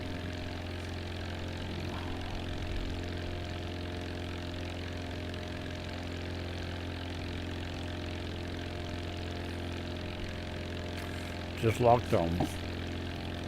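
A propeller airplane in flight, descending, with a steady close engine drone and hum throughout and a brief spoken voice near the end.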